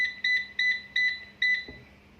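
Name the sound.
air fryer beeping as it is set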